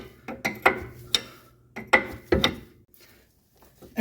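Ratchet clicking in short bursts while tightening a ball joint nut on a 1985 Mercedes 300D front suspension, several close, crisp mechanical ratcheting strokes separated by brief pauses.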